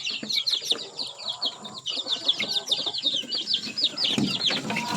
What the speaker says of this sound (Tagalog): Yung mga rooster natin.